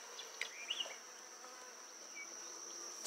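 Honey bees buzz steadily inside a queen bank hive, a faint continuous insect drone with a few brief louder passes of individual bees close by.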